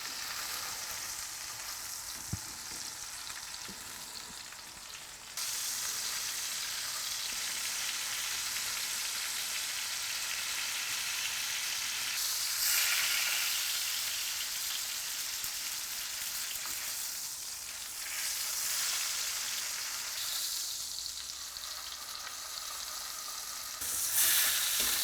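A beef roast sears in butter and peanut oil in a frying pan, giving a steady loud sizzle that swells each time the meat is turned, with no talking.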